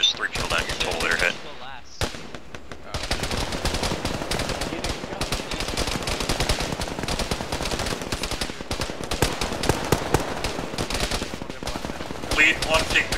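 Dense, loud automatic gunfire in a jungle combat video game, sustained machine-gun bursts and single shots rattling almost without pause, with a brief lull near the start.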